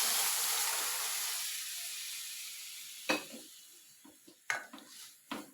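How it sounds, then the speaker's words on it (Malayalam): Sautéed masala and boiled chickpeas sizzle in a pan, a broad hiss that fades and gives way to a few sharp metallic scrapes and stirring knocks, close and without speech. "നല്ലപോലെ ഒന്ന് വഴറ്റി വെച്ച് ഇതിലേക്ക് വേവിച്ച് വെച്ചിരിക്കുന്ന കടല"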